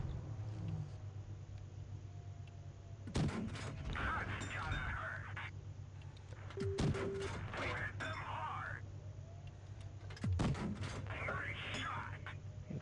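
A PzKpfw 38(t) n.A. tank cannon fires in WoT Blitz: three heavy blasts land a few seconds apart, each rising sharply over a steady engine drone in the background.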